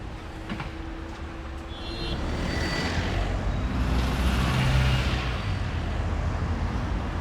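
Bus engine drone and road rumble from the upper deck of a London bus, a steady low hum that swells slightly midway, with faint brake hiss and no talk.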